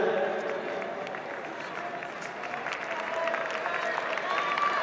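Spectators in a stadium applaud a runner on the home straight of a women's 10000 m race, a steady wash of clapping with crowd noise. A voice carries over it throughout.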